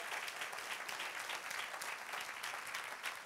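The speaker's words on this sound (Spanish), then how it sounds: "Dale otro aplauso al Señor." A church congregation bursts into sustained, dense applause, many hands clapping together steadily at moderate volume with no pauses.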